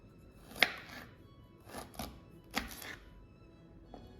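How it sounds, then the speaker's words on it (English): A knife slices peeled ginger on a cutting board, giving a few separate soft thunks spaced irregularly, close and fairly quiet with no talking. "First cut into small slices."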